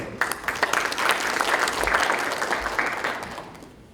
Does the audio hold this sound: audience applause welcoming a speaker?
yes